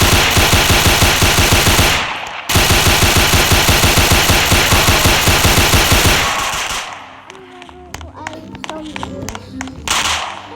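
A Tommy gun in a zombie video game fires long rapid bursts, a steady stream of loud shots with a short pause near two seconds, then scattered single shots and clatter, with faint voices underneath.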